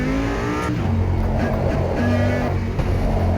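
A race car runs a lap on a track in Cordoba, its engine a loud, close, steady drone whose pitch climbs and falls as it accelerates and eases off.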